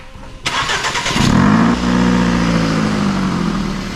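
A car engine cranks and fires up through an exhaust with a hole punched in it, then settles into a loud, deep, raspy idle with an aggressive exhaust rumble, heard up close.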